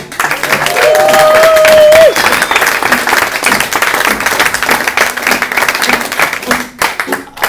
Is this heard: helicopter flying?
no